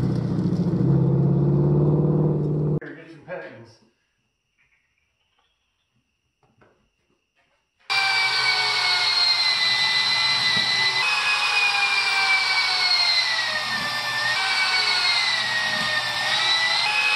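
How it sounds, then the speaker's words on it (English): A loud engine-like whir cuts out into near silence, then a high, steady whine of a power drill boring holes in a tire runs continuously, rising and falling slightly in pitch. "Yep, drilling holes in a tire."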